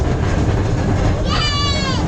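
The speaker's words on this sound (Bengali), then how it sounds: "ট্রেনে করে আমরা কোথায় যাচ্ছি বলো তো?" A park ride train in Chuadanga, Bangladesh rumbles steadily along, and a bright whistle-like tone rises partway through, with people talking over the noise.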